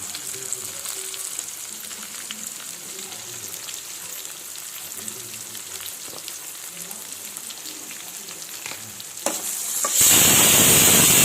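Eggs frying in oil as garlic chili powder is stirred in, a steady dense sizzle with faint scraping, growing sharply louder and brighter in the final second, with no talking.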